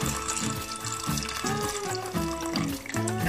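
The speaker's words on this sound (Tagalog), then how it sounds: "dagdagan natin ng konting tubig pa" Water pours into a cooking pot of corned beef sopas, loud and close, with bubbling, gurgling pulses as the liquid hits the simmering broth, no talk.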